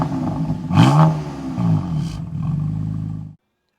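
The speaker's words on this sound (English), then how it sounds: "the Turbo 6 in the F80 sounds fantastic with its pops and burbles." A BMW F80 M3 turbocharged six-cylinder revs hard with a loud, rising exhaust roar, then a second burst and a steady burbling drone before cutting off abruptly.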